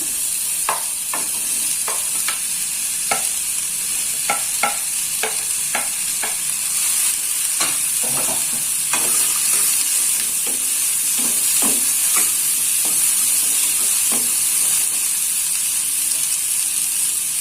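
Green beans stir-fry in a hot pan with a constant loud sizzle and hiss. Repeated scrapes and knocks from a stirring utensil land in an uneven rhythm close by.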